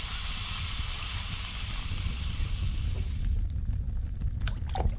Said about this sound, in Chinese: 加水烧开